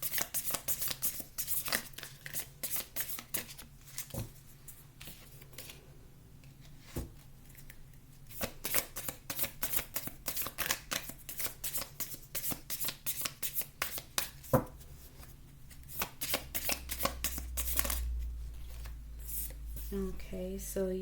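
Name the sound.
shuffling tarot cards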